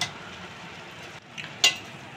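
Sugar is stirred into steamed rice in a pot for sweet kanika bhog, with soft scraping and sizzling and a sharp utensil clink near the end.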